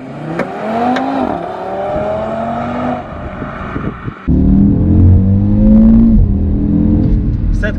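A 400-horsepower Audi RS3 accelerating hard, its engine climbing through rising revs with quick gear shifts, then a sudden louder surge of close, throaty roar as it pulls away.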